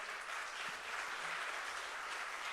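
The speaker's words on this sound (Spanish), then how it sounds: "Denle un fuerte aplauso al Señor." Faint, steady applause from a church congregation praising the Lord, a soft, continuous patter of many hands heard at a distance.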